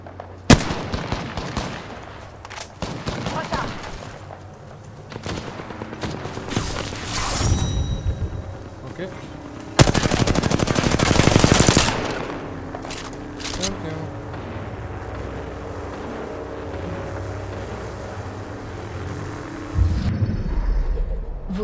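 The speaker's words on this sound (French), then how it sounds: "J'ouvre le feu." Gunfire in the battle-royale video game Apex Legends: rapid automatic bursts and single shots crackle in clusters, with a loud sustained volley midway, then quieter game sounds and a voice speaking over the action.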